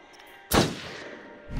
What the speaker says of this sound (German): guter Schuss, Sheriff